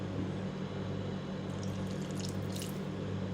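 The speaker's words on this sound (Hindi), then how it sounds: "2-3 टेबल स्पून पानी डालूंगी और गाजरों को मैं गलाने के लिए रखूँगी।" Water pours steadily into a pan of spiced carrots cooking for a carrot and fenugreek sabzi, making a continuous, fairly even splashing rush throughout.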